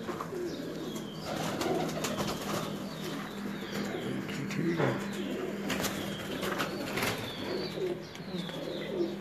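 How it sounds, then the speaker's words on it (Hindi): Pigeons coo steadily nearby with occasional wing flaps and chirps, a continuous murmur of birds heard close with faint background voices. "ये जो कबूतर अभी दिखाया"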